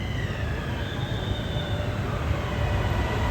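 An Airport Rail Link train at a station in Thailand, a loud continuous rumble of wheels and motors with a faint high whine above it and no clear voices.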